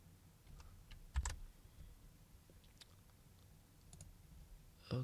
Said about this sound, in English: Let me click on it real fast.